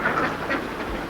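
Ducks quack in a short, busy outdoor scene, a few nasal calls rising over a rough, rumbling background noise, lasting about a second.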